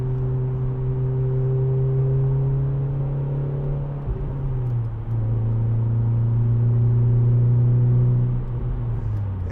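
A 2010 Renault Clio Renaultsport with a 2.0 VVT engine revs steadily and loudly up close, its tone dropping briefly mid-way as a gear changes before climbing again, with a soft burbling edge.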